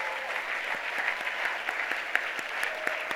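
Applause from a gala audience as a former college counselor stands to be recognized, a steady dense patter of many hands clapping at moderate volume with no talk over it.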